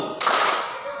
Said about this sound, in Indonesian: Kalau Ustaz bilang tepuk satu, kalian tepuk satu kali.